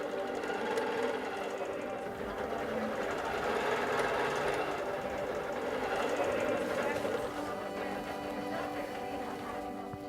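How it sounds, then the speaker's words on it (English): A Bernina Q-Series quilting machine stitches on its own at a quilt show, a steady, continuous mechanical whirring hum that holds throughout, with faint crowd murmur beneath it. "And now it is stitching on its own."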